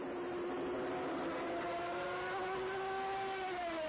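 Berger's Formula 1 race car at the Mexican Grand Prix, completing another lap: a loud, steady, high-revving engine tone drones throughout the clip, its pitch sliding gently as the car runs past, with no voices.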